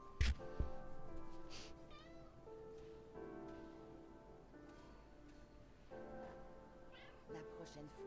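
A house cat meows several times indoors, short faint cries scattered over steady background noise, with people talking quietly around it.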